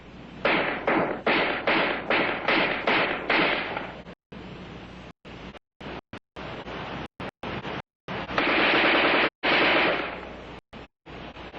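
Armalite AR-10 rifle firing at a man-sized target: a fast run of about eight sharp cracks, then scattered shots broken by abrupt dropouts and a longer burst near the end, loud and alone.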